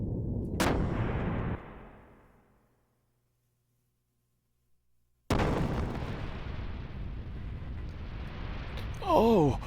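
Heavy ship guns firing in the video game Xenogears, with a booming blast that rumbles off into silence and then a second massive explosion followed by a sustained roar and whooshing effects.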